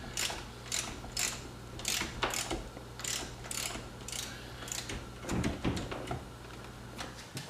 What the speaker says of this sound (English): I'm just turning a wrench.